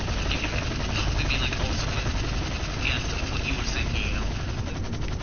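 Helicopter in GTA 5 Online, a loud, steady engine and rotor drone filling the whole clip, with faint rattling bursts of gunfire over it.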